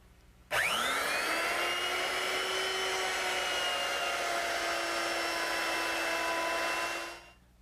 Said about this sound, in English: remove most of the material in the area of the joint while my straight bit is still in the router